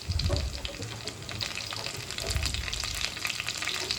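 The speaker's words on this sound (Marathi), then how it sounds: "लसूण थोडासा परतत आला की आपण त्याच्यामध्ये पुढचे इन्ग्रेडियंट्स टाकणार आहोत." Garlic frying in a pan for Marathi dal palak, a continuous close crackling sizzle with light stirring scrapes throughout and a slightly louder burst at the start.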